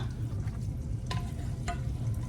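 A garlic clove fries in a pan with a steady close sizzle, broken by two brief scraping clicks as it is stirred.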